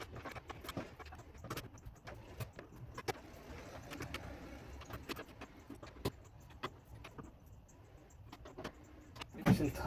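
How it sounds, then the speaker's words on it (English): A wrench works a bolt on a Toyota Tacoma tailgate, producing faint, quick ratcheting clicks and metallic ticks in an irregular sequence over quiet background noise, ending with a louder clunk. "I don't have a 13 handy, so I'm just using a wrench."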